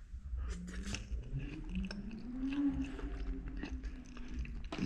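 Someone eats Jamaican run down chicken in coconut milk sauce with rice and peas, with close, wet chewing and soft crunching going on steadily throughout, without any talking.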